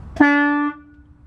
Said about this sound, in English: My air horn is working properly as well.